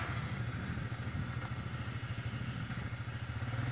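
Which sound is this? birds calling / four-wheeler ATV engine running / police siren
four-wheeler ATV engine running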